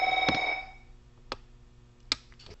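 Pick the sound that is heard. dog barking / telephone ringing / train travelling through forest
telephone ringing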